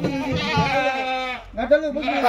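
Kathiawadi goats bleat close by in two wavering, nasal calls separated by a short pause, loud and clear against a faint background.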